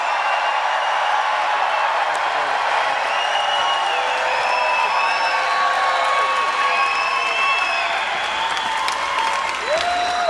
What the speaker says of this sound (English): Everybody, a big round of applause to the great sheriff of Brevard County, Mr. Wayne Ivey.